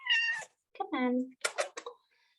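Pet cat meowing several times close by in a home yoga session, drawn-out cries followed by shorter chirpy mews, with someone talking around them.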